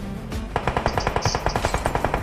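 Rapid automatic gunfire rattles in the mobile shooter game BGMI, a loud burst of evenly spaced shots sustained for about two seconds with no talk over it.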